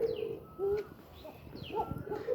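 Farm pigeons coo close by in a few soft, rolling calls with short pauses between them, some faint chirps mixed in.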